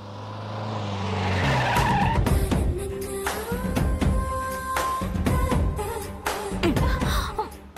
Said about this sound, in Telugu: ముందు ఒక స్పీడ్ బ్రేకర్ వస్తుంది, కాస్త చూసి బ్రేక్ వేయండి.